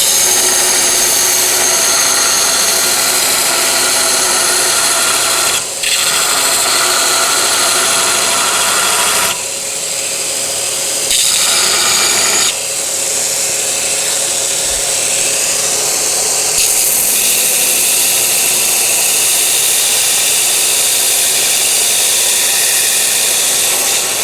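A grinding wheel runs continuously against a forged folded rasp axe, a loud steady abrasive whine with brief dips and shifts in pitch as the steel is pressed into the wheel.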